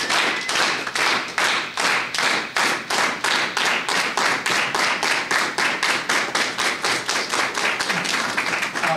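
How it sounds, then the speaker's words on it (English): An audience at a labor talk at a Maine art college claps in unison, a steady rhythmic beat of about three claps per second that carries evenly from start to finish. "Let's give another solidarity clap."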